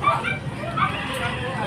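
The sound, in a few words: dogs barking at a pet market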